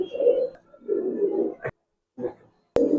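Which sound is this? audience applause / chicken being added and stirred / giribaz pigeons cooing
giribaz pigeons cooing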